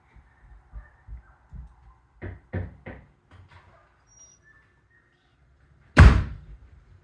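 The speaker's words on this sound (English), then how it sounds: "No, Caleb, just knock on this door and open it for me, please" A series of light knocks on a door, a few soft taps followed by a clearer trio of raps, then after a pause a loud thud as the door is opened, close by in a quiet room.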